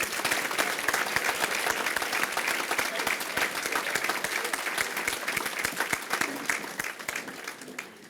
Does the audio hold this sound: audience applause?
yes